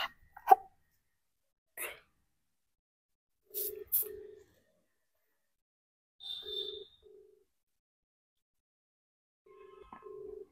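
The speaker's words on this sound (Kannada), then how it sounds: "Ring ಆಯ್ತೈತೆ phone." A phone call rings out with quiet, evenly spaced ringback tones, each a short pair of buzzing pulses separated by long silences, mixed with a few faint clicks and rustles nearby.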